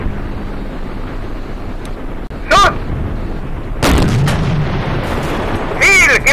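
Heavy Tiger tank cannon blasts in the video game Darkest Hour: Europe '44-'45 boom out in several separate shots over constant wind-like rumble, each a sharp loud crack with a rolling tail.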